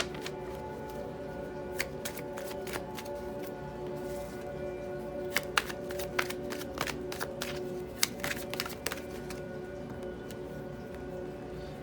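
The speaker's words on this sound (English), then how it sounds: "I'm going to pull a few more tarot cards just to sum up this reading" Tarot cards being shuffled and pulled from a deck, a steady soft riffling with a run of sharper card snaps and flicks in the second half, close and fairly quiet with no talking.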